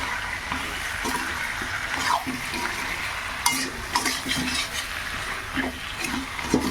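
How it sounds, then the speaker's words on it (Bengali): Potatoes and onions stir-frying together in a pan, a close crackling sizzle broken by repeated scraping stirs and occasional sharper knocks of the utensil, with no talking. "এবার এরকমভাবে খানিকটা কষিয়ে নেব"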